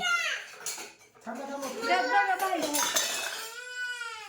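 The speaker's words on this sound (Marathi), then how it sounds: "मला भांडी घासायच्या आलं की कामाला लागाव म्हणलं" Dishes and pots clatter and clink as they are scrubbed at home during a power cut, metallic ringing tones rising and fading under a person speaking nearby.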